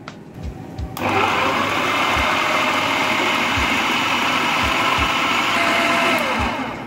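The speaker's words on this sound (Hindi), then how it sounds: "पहले मैं सबसे पहले इसको जो है अच्छी तरह से पीसूंगी इसमें चॉपर में।" An electric chopper grinds minced meat with onion and green chillies: a brief quiet start, then the motor kicks in and whirs loudly and steadily, with a few low knocks underneath.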